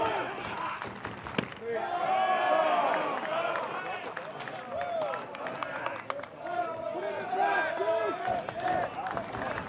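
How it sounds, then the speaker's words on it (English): A college baseball crowd in Raleigh cheers and yells during an NC State game against Radford, a loud sustained roar with whistles and shouts, and a commentator talks over it. "Listen to this crowd in Raleigh trying to motivate NC State"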